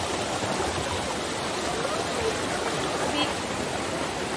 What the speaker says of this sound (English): Now guys going for swimming here in the river with Andrea.